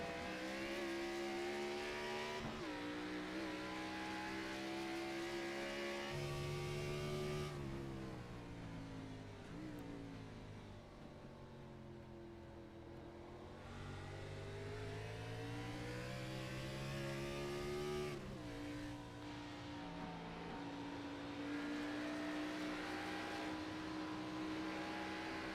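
Roaring race car engines in an Xfinity Series racing video game rise and fall in pitch as cars sweep past, a continuous loud high-revving drone with shifting tones and no talking.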